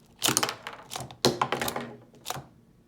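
Mattel Jurassic World Dino Escape Carcharodontosaurus Mega Destroyer toy snapping free of its plastic breakout gear: a quick string of hard plastic clicks and thunks in two close bursts, then a single lighter knock.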